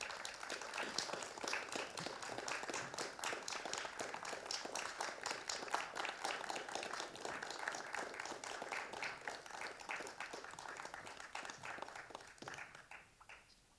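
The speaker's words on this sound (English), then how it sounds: "please, can we have a round of applause for Hannah" Sustained audience clapping at a live book event, greeting prize winner Hannah. It is moderately distant and fills about thirteen seconds at an even density before fading out near the end, with no one talking.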